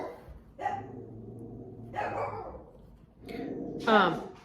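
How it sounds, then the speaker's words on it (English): A few sharp dog barks and yips ring out in short bursts, fairly close, with no talking in between. "Sorry about the dogs, but now they've decided something."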